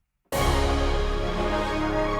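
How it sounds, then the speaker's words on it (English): Orchestral woodwinds play fast scale runs that rise and fall in a JRPG-style theme intro, entering abruptly and sustaining at a full, steady level without any voice. "the main effect here is the Hollywood Winds runs going up and down"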